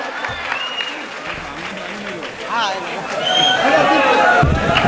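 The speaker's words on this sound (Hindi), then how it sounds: "आप तमाम लोग की तरफ से दोस्तों तालियों से इस्तकबाल कीजिए अब्दुल रहमान शाह साहब" At a mushaira award ceremony in Malegaon, the crowd claps to welcome a guest. The applause builds toward the end beneath an announcer's ongoing speech and background chatter.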